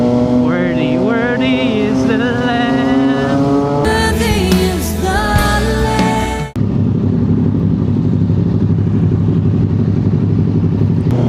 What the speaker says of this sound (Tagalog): tunog ng mga makina.